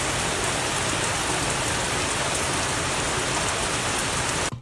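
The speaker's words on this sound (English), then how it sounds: "but the rain catches us." Steady, dense rain pours outdoors in a fruit tree planting area, a constant close hiss of drops hitting the ground and surfaces that runs without a break until it cuts off abruptly at the end.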